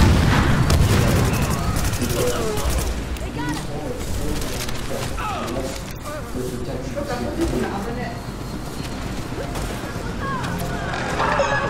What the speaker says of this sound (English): Cluster mine's going out.